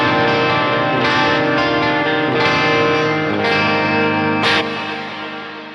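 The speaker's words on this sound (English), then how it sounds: "we have both the delay and the reverb on" Clean bass guitar through a Bogren Digital S_Zero 93 amp plugin with delay and reverb engaged: sustained notes with repeating echoes and a lingering wash, each new pluck sharply attacked, no voices.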